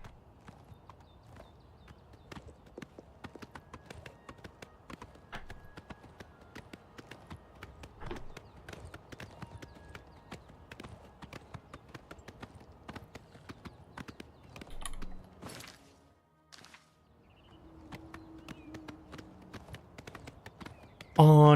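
A horse's hooves clip-clop in a steady walking rhythm in the Oblivion video game, faint and close, with brief pauses and a short gap near the end.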